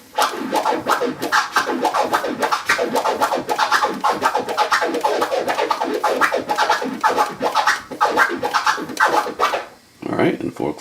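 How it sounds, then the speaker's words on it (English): A turntable scratch is played in a continuous two-click pattern, the record's rapid chopped whooshes repeating steadily and up close, ending with a short pause before a final burst. "And 2 clicks sounds like this."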